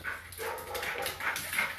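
An excited shelter dog barks and whimpers in quick, high-pitched yips and whines, close and continuous over a short burst, with no clear talking.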